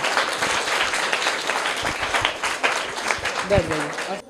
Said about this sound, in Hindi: तो जोरदार तालियां हो जाए इनके लिए।